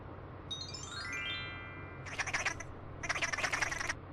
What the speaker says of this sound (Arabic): عصفور.